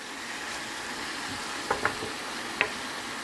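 Eggplant with dried shrimp frying in a pan over a medium-low flame, giving a soft, continuous sizzle with a few light clicks of a utensil against the pan.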